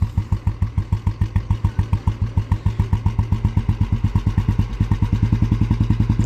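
A 1957 Royal Enfield Bullet 350 single-cylinder motorcycle with magdynamo idles steadily after its timing was retarded, giving a loud, close, even thumping beat with mechanical clatter and no speech.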